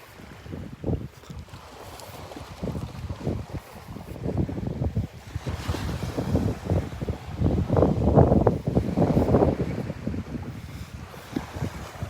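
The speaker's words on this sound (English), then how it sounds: "every once in a while we get some good gusts" Gusts of wind buffet the microphone in rising and falling rumbles on a beach, with the faint wash of water in the background.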